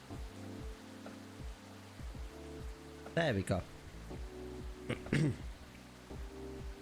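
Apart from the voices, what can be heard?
rain ambience in video game Coffee Talk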